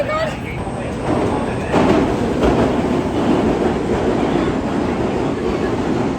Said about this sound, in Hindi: our first bullet train opening